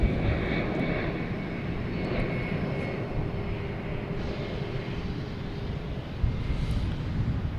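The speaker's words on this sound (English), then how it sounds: "We have United Airlines coming in from San Francisco." A United Airlines 737 MAX 8 arriving from San Francisco at Boston Logan, a steady loud roar of jet engines with low rumble and some wind buffeting, continuous throughout with no talk.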